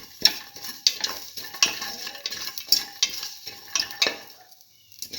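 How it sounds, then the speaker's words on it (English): Tomato and split pigeon pea stew being sautéed and stirred in a pan, with a spoon scraping and clinking against the metal at irregular intervals over a soft, steady sizzle, close and fairly loud, no talk. "Thoroughly saute and mix."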